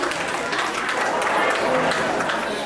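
An audience at a Deusi fundraising gathering claps loudly and steadily in honour of a donor, a dense sustained round of applause with no pauses.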